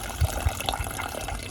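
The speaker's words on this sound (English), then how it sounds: "It takes several minutes for this to siphon out and empty." Gasoline siphons out of a jet ski fuel tank through a hose into a bucket, a soft continuous trickle of liquid with a few small gurgles and drips.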